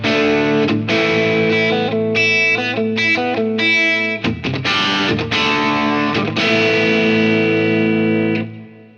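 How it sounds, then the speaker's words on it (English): Electric guitar through a Marshall amp with no overdrive pedal in front, a loud, gritty riff of chords and quick single-note runs with a brief choppy pause midway, ending on a ringing chord that cuts off. "that's the amp without the overdrive."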